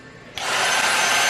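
A household vacuum cleaner switches on partway through, its broadband motor roar rising abruptly and holding steady and fairly loud to the end.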